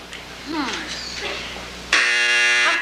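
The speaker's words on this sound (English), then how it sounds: "Once that buzzer sounds, even if you were right, we couldn't take it." Brief speech and chatter, then a loud, harsh electronic game show time-up buzzer blares abruptly and holds steady to the end.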